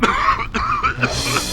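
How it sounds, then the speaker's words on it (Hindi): A few harsh, close coughs in quick succession, loud and rough, like someone clearing a scratchy throat. "कमबख्त खांसी"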